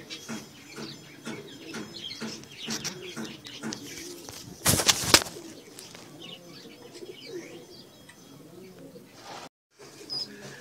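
Pigeons and their chicks coo in a loose rhythm, with soft chirps and one sharp burst of flapping wings midway, all close by.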